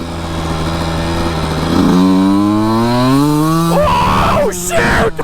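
A Honda CR125 two-stroke dirt bike revving hard up into its powerband, a loud, close, buzzing wail climbing steeply in pitch, then cut off abruptly.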